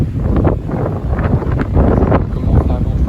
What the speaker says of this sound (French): Bonne rafale